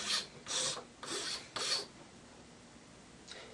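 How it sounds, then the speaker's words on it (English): Four even rasping strokes of a metal file scrape along a cut plastic Rubik's brand cube piece, close and crisp, followed by quiet and one faint final scrape. "take your file and just scrape along the file, like so"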